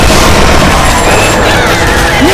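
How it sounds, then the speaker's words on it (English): Smoke grenade going off in a video game, a loud, harsh, saturated blast of noise that fills the whole moment without letup. "Yeah, the fucking smoke grenade."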